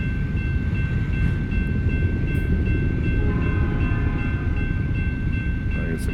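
A train rumbles steadily past a railroad crossing in American Truck Simulator, a loud continuous roar with a sustained horn-like tone running throughout.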